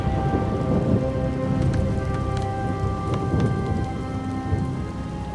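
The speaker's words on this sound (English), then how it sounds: "The storm is receding." Thunderstorm with steady heavy rain in a World of Warcraft Dragonflight cutscene, a dense continuous downpour with rumbling thunder swells, fairly loud throughout, with a faint musical drone underneath and no voices.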